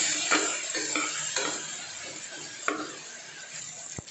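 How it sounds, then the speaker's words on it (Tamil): Tomatoes being sautéed in a pan for a Tamil rice and lentil dish: a soft continuous sizzle broken by repeated spoon stirs and scrapes, close and fairly quiet, with a short metallic tap near the end. "தக்காளியும் சேர்த்து நல்லா வதக்கி விட்டுருங்க"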